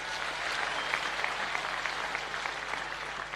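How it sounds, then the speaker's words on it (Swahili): A crowd at an interdenominational church service in a county stadium applauds steadily, a dense, moderately distant wash of clapping with no clear voices. "Mpigieni makofi"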